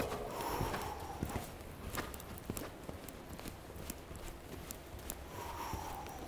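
Horse hooves clip-clopping at a trot and a walk during a riding lesson, a steady run of close hoof strikes over faint background noise.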